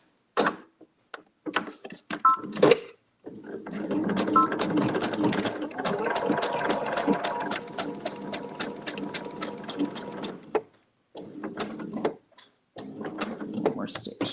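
A sewing machine stitches free-motion quilting on a boho floral quilt block, outlining leaves in long steady runs of rapid needle chatter broken by short pauses. A voice talks over the stitching.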